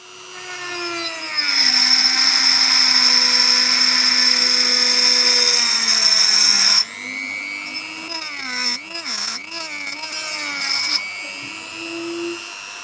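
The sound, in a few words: small saw blade cutting plastic pipe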